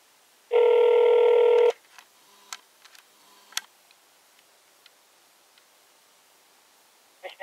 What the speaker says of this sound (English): If you have a touch-tone phone and know your party's extension, you may dial it now